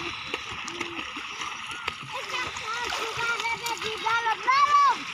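Beach near a village where people swim, with irregular splashing in the water under lively voices, including children's chatter, fairly close and continuous.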